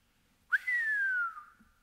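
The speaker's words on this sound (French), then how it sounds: "Laurent siffle admiratif." A man's admiring whistle, a single rising then slowly falling tone held for about a second, clear and close with no talk around it.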